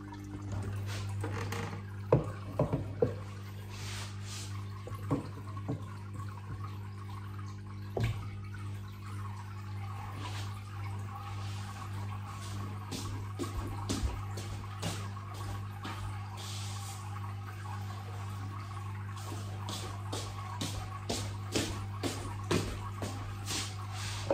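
Water being changed and refilled in a home aquarium, with faint trickling, dripping and pouring under a steady low hum, interrupted by scattered small knocks and splashes at a quiet distance.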